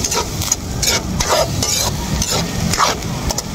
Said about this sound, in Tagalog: Ating halu-haluin lang ulit.